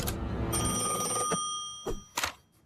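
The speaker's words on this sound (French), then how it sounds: "Mina, téléphone diabolique." A telephone bell rings in a French-dubbed Grojband cartoon episode, a loud sustained electric ring with steady tones over background scoring, then a few short knocks and thuds as the ringing stops.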